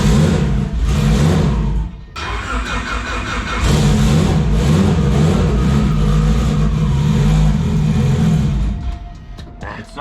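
Car engine on a dyno, loud and close, cranking and catching then held at a rough, uneven throttle with a brief dip before rising again and fading near the end.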